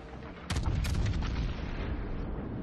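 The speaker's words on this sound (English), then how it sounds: "I just heard your gun." A warship's main guns fire in the naval battle game World of Warships: Legends: two close, heavy booms about a third of a second apart, followed by a long rumbling roll that fills the rest of the moment.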